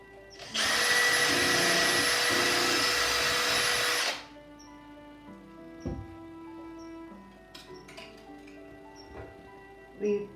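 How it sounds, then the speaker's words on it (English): A power drill whirs loudly and steadily for several seconds as it bores into bamboo, then stops, leaving quieter handling clicks and taps. "What we would need would be a drill and some wire."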